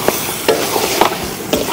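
Goat meat stir-fried in a pan with shallots and garlic, giving a steady sizzle broken by four sharp scraping stirs of the utensil at regular intervals.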